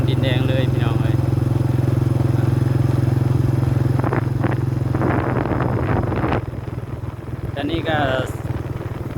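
A motorcycle ridden away from a small village gives off a steady, close engine drone that runs throughout, with a person talking over it at times.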